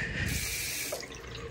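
Water runs steadily from a hotel bathroom sink tap, a continuous close splashing stream with no voices.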